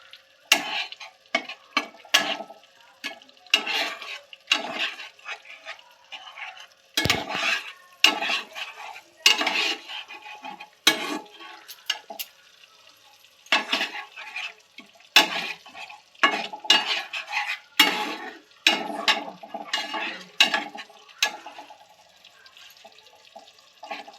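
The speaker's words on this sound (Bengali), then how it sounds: "আমি আবারও কষিয়ে নেব সব মশলাটাকে একসাথে" Spices stir-fried together in a pan for a prawn malai curry make a run of close, irregular scraping and clattering strokes of the spatula, with short pauses of quiet between bursts.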